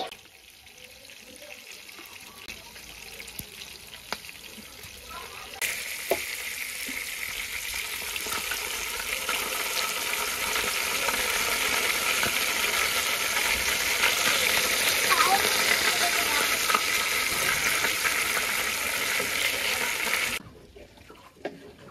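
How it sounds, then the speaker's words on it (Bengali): Chicken fries in a pan for a home-style chicken fry, a close hiss that swells to a dense, loud sizzle around the middle and holds steady before cutting off near the end. "তাই আজকে একটু কড়া করে ফ্রাই করলাম"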